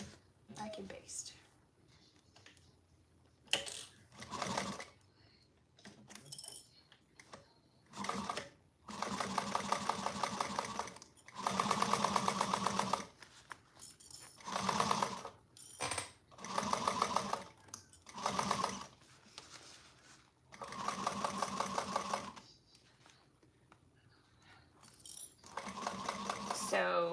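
A sewing machine bastes a flap onto a bag, running in repeated short bursts of rapid stitching separated by quiet pauses, with faint voice sounds between runs.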